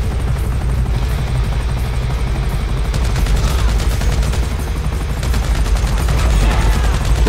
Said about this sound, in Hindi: इतनी तो गोलियां मारी इसको